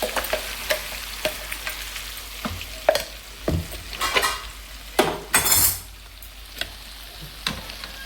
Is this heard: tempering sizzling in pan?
yes